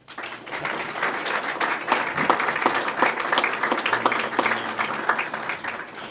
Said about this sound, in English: Round of applause for these national champions.